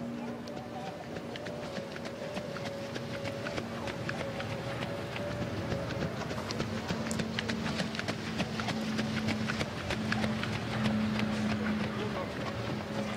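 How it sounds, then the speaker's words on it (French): A trotting racehorse warming up before a harness race, its hooves beating a steady clip-clop under continuous background noise, with a commentator speaking over it. "Bip Bip de Guèze à l'échauffement"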